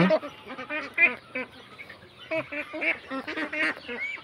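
Ducks quack in short, scattered bursts at close range on a farm, with a few louder honking calls standing out from the chatter.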